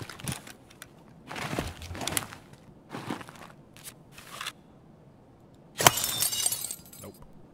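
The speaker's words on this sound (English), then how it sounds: "Can I break this glass?" Glass breaks in a video game: several short crashing, crunching bursts separated by pauses, ending with one louder, longer shatter near the close.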